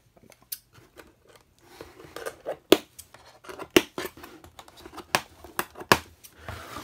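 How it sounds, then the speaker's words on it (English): Scissors snip through rubber bands on toy packaging in short, crisp bursts at an irregular pace, close up, with faint crinkling between cuts and no talking. "grab some scissors to cut those."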